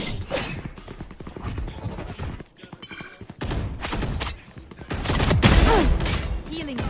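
Video game gunfire, including shots through a wall, in rapid bursts and scattered single cracks with thuds in between, fairly loud and close.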